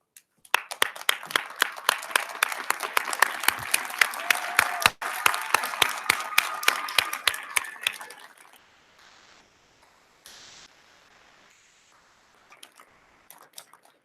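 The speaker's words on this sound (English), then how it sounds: "join me in giving them a big round of applause" Graduates, friends and family applaud at a university law school hooding ceremony, a dense round of clapping from a large crowd lasting about eight seconds and then fading to scattered claps and quiet.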